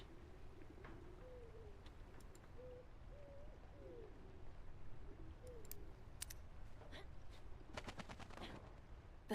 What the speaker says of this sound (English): Bird's gonna attract attention if I get close.